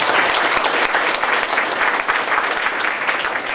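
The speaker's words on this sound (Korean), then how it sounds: "예, 박수." An audience at a book concert on labor poverty and land justice breaks into applause, a loud, dense burst of many people clapping close by that stays even until the end.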